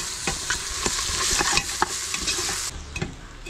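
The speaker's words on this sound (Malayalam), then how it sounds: "മഞ്ഞൾപ്പൊടിയും കൂടെ ചേർത്തിട്ട് നമുക്ക് ഒന്നുകൂടി വഴറ്റിയെടുക്കും" Onion masala with turmeric powder being stirred and sautéed in a pan for Kerala-style mutton biryani, a spoon scraping in repeated strokes over a loud steady sizzle that drops off near the end.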